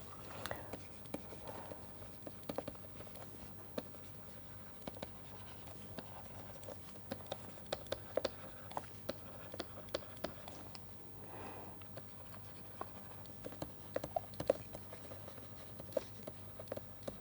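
A pen scratches and taps steadily on a surface during a lecture tutorial on sonic crystals, faint and close, with soft intermittent strokes over a low hum.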